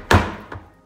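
A knife blade banged into the lid of a chickpea can to pierce it: one sharp, close metallic thunk, then a fainter second knock about half a second later, with a light tap at the very end.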